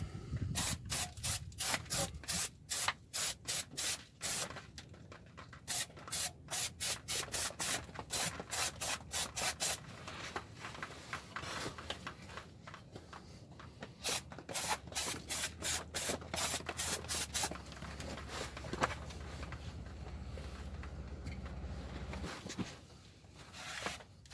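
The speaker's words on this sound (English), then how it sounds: "a little rinse with some brake clean or acetone" Brake cleaner sprayed in long hissing bursts to rinse and degrease a 2005 Subaru Outback oil pan, repeated spurts with brief gaps and a low rumble beneath, close and fairly loud.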